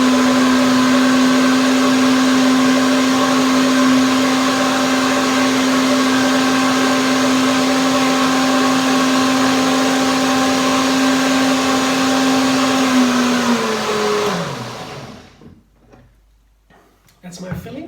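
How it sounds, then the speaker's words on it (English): A blender whirs steadily at full power, blending cream pie filling for a black currant apricot pie, a loud continuous motor hum that winds down and stops near the end. "One more blending, one more blender dance."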